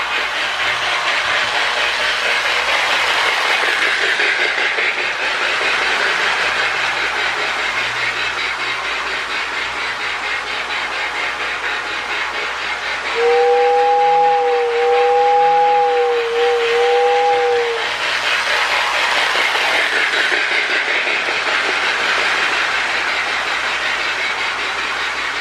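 A toy train runs with a Marx Sound O Power tender fitted with a Lionel steam sound board, making a steady rushing chuff and rail clatter, with a two-tone whistle sounding briefly midway.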